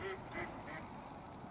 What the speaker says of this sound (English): Oh, another couple of wee ducks.